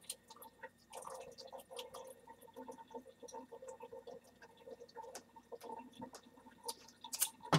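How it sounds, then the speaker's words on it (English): Rehydrated mangoes are drained in a kitchen, with quiet intermittent drips, splashes and soft wet squishes, close by and irregular, ending in a few sharper knocks. "I'm going to pour the water off them."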